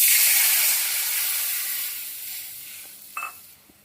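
Tamarind water is poured into hot mustard seed tempering in a pan, setting off a loud sizzling hiss that slowly fades over several seconds, with a brief clatter near the end.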